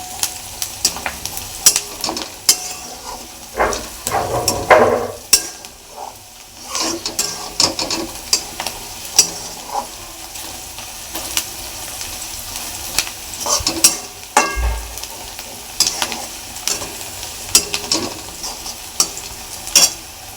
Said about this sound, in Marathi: अर्धा पाऊन चमचा हळद टाकत आहे ती पण चांगली तेलात फ्राय करायची आहे